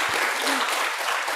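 Brief, dense applause from a church congregation welcoming new guests at a Sunday service, a steady wash of clapping throughout.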